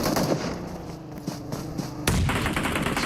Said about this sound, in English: Nade after nade.